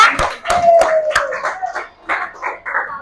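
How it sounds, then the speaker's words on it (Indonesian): A small group in a classroom claps in a few loose, uneven bursts, sharp hand claps close by, with voices and cheerful exclamations over and between them. "tepuk tangan untuk kita semua"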